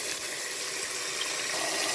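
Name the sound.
water filling pot for goat head soup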